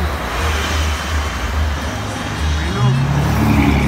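Cars, trucks and buses pass on a roadway near farmland outside Zacapu, a steady loud rumble of engines and tires with heavier vehicles swelling nearby, while someone speaks briefly over the traffic.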